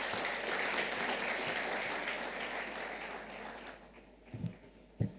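Applause from a crowd at a launch event honoring a Group Managing Director, a steady wash of many clapping hands that tapers away over about four seconds, followed by a couple of faint bumps.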